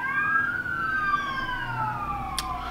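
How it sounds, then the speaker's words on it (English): Emergency vehicle sirens wail outside, several overlapping tones sliding slowly up and down, heard at a moderate distance over faint background traffic rumble. "sirens are going."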